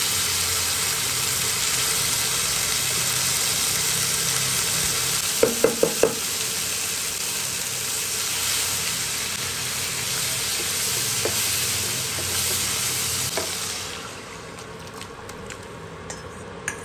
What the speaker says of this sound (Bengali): ফোড়নে দিচ্ছি জিরে, তেজপাতা, শুকনো লঙ্কা।